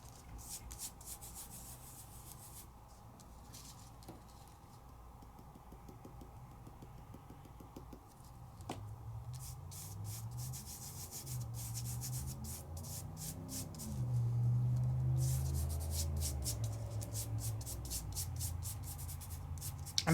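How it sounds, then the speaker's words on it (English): A finger rubs steadily over an adhesive rub-on transfer on a craft surface, a soft, close scratchy friction that comes in short strokes and then gets louder and more continuous, with no talking. "Take my finger and just gently rub it over."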